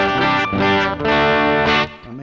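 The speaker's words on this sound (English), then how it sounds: "I'm gonna do my AC or my Joyo or Joyo American. So you can hear how that's gonna sound." Grote GT-150 Telecaster electric guitar through a Joyo American overdrive pedal with the drive set fairly high: thick, sustained distorted chords ring out loud and close, changing twice before fading, with no voices.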